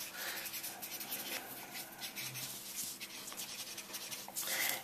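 A Tombow marker nib is rubbed clean with a soft, continuous scratchy scrubbing that stays close and faint throughout, growing slightly louder at the end.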